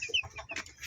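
Free-range chickens giving a quick burst of soft, close clucks and chirps, lasting under a second.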